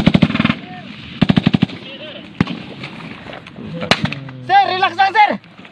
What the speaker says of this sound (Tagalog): Sniper! May sniper! May pumutok!